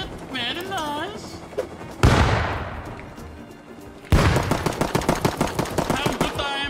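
An automated turret in the survival video game Rust fires rapid, loud bursts of gunfire after a voice and a heavy booming blast, the shots close and densely packed.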